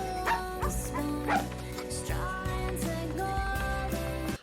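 A dog barks and yips in a scene from the TV drama Grey's Anatomy, short repeated barks over steady background music and scene sound, fairly close and moderately loud throughout.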